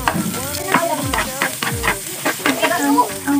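Garlic frying in a pan at home, a loud close sizzle with quick stirring scrapes and clanks, plus faint squeaky background sounds.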